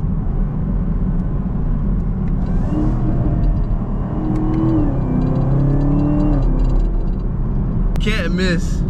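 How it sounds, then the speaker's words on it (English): A stock 2020 Chevrolet Camaro ZL1 rumbles steadily while driving, with engine tones stepping through downshifts heard from inside the car, and someone talking over the engine throughout. "And it sounds good. This is stock as well. This is a 2020. But downshifts"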